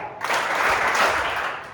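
A group of students in a workshop energizer game bursts into brief collective hand clapping, a dense, bright spatter of many hands rising quickly and fading after under two seconds.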